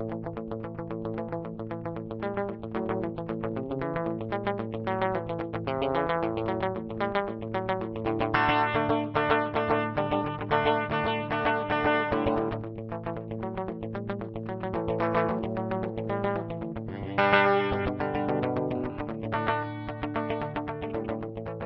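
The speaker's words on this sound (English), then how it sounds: "that's the slapback echo" Electric guitar through a Hotone Binary Eko delay pedal set to a short slapback echo near 140, each plucked note and chord followed by a quick single repeat in a continuous riff with no talking.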